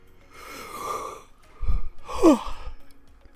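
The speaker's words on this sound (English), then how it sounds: "Bit of a yawn there, kind of tired." A tired person yawns: a long, drawn-in breath followed by a couple of voiced, sighing exhalations, close to the microphone in an otherwise quiet room.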